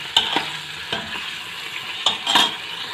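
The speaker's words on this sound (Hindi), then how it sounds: "बस इतनी देर के लिए भूनेंगे कि इसका जो कलर है वो चेंज हो जाए, इतना ही इसको भूनना है हमें।" Chicken stir-fried over a medium-high flame for a karahi dish sizzles steadily up close, with several sharp stirring scrapes and clanks of a spatula against the pan, and no voices.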